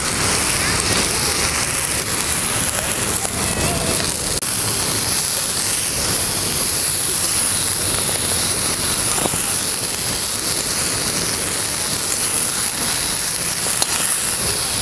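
Dill greens sautéing in a pan outdoors in strong wind, a steady loud sizzling hiss that runs unbroken for the whole stretch, with wind noise mixed in.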